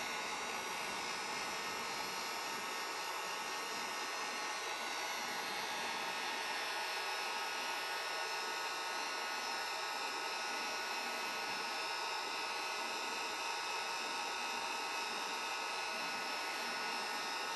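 A heat gun blows a steady, loud, unbroken rushing hiss while heat shrink wrap is warmed over a Schumacher battery clamp during a repair.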